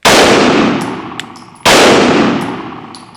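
Two loud pistol shots from a full-size Canik TTI Combat, each followed by a ringing metallic clang from a steel target downrange and a long fading echo outdoors.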